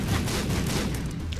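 A troll bomb explodes in The Binding of Isaac: Wrath of the Lamb, a loud, rumbling blast that fills the whole short moment.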